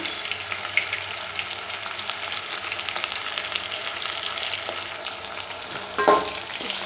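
Flattened rice (poha) frying in a pan gives a steady, fairly loud sizzle and crackle, with occasional stirring scrapes and a louder clatter near the end, no talk.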